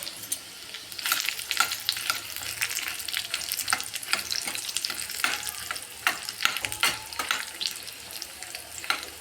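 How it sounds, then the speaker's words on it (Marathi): Dhaba-style garlic fenugreek sabzi tempering, with red chilli added after cumin and garlic, sizzles and crackles in hot oil as a close, steady frying hiss broken by sharp pops and spatters, with no talking. "आपल्याला सारखा तडका द्यायचा आहे मेथीच्या भाजीचा मिरची पण घालूया लाल"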